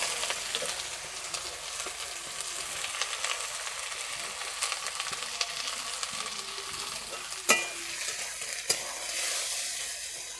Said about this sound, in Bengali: তেল গরম হয়ে গিয়েছে, আমি পেঁয়াজগুলো দিয়ে দিচ্ছি।